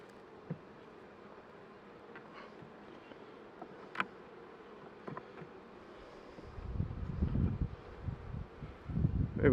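Honey bees buzz around an open hive during a winter inspection, a faint steady hum with occasional louder passes close by, and rustling handling noise grows louder toward the end.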